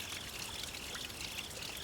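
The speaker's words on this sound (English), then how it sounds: "I don't know if you all can hear the trickle behind me, the spring water that's coming in the grotto right now" A faint, steady trickle of spring water flows at very low drought-time volume into a dry-stacked stone grotto, a soft continuous hiss-like wash with no voices over it.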